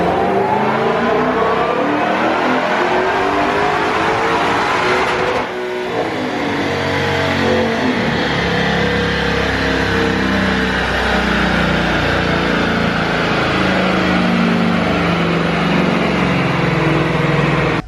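A supercharged 2020 Shelby GT500 engine revving hard on a dyno, with a loud, sustained roar that climbs in pitch, drops briefly, then builds again into a long full-throttle pull.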